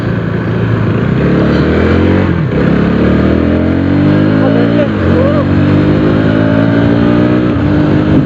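A KTM Duke 250 motorcycle engine drones loudly up close, its pitch wavering and dipping as it sputters and falters a couple of times, with a voice speaking over it.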